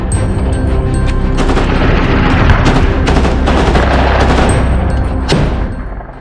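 Enemy rounds crack in close combat on the Ukrainian front, a loud sustained burst of rapid gunfire with overlapping shots and booming reports, near and intense, with no talk.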